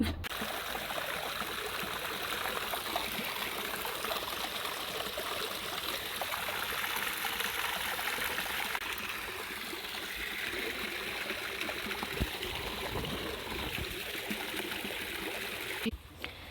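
Continuous rushing water of a lazy river in Colorado, heard from a bridge as a steady, even wash with no voices.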